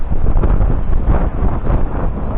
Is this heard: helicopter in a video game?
no